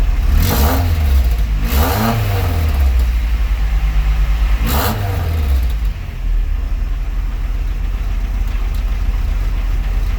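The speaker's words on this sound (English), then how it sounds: "I'm gonna give it the throttle a little bit" A turbocharged Saturn S-series engine with larger fuel injectors revs up sharply three times with throttle blips, each rise and fall clearly audible, then settles back to a steady idle.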